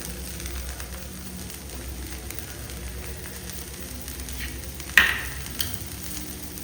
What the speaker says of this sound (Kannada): ಒಳ್ಳೆ ಫ್ರೈ ಆಗಲಿ ಫ್ರೈ ಆಗುವಾಗ ಪರಿಮಳ ಬರ್ತದೆ ಒಳ್ಳೆ ಪರಿಮಳ ಬರ್ತದೆ ಬಟರ್ ಮತ್ತೆ ಗಾರ್ಲಿಕ್ ಫ್ರೈ ಆಗುವಾಗ